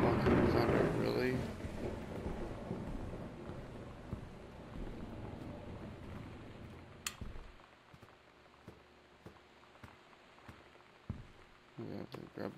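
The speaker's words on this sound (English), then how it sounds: "Fucking thunder, really?" Thunder in the video game Gone Home rolls in as a loud, low rumble at the start and fades over several seconds into a quiet stormy background with scattered faint knocks.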